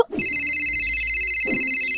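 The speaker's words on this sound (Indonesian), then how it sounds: "Bentar nih, ada telepon dari mas Inis saya." A telephone rings in an animated cartoon, a loud, continuous electronic ringtone with a bright warbling tone, close and alone with no talk over it.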